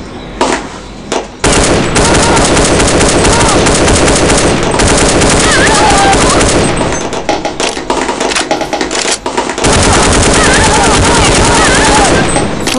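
Loud, continuous automatic rifle bursts fill a Counter-Strike 1.6 match, rattling almost nonstop with a few short gaps, while voices talk faintly underneath.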